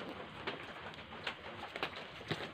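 Live kagiliw doves captured during a night hunt at a cemetery give soft, brief calls, several short coos spaced irregularly over a faint steady background hiss.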